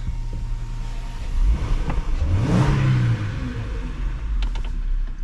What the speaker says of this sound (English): quick exhaust check